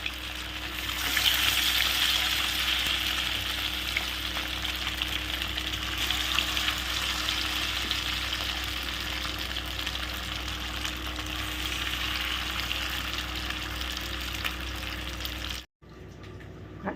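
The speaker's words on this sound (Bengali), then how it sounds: "খুব সুন্দর করে লো ফ্লেমে আস্তে আস্তে করে ভালো করে মাছটাকে ভাজতে হবে।" Chitol fish frying slowly in hot oil over a low flame gives a steady, soft, continuous sizzle close by, cutting off abruptly near the end.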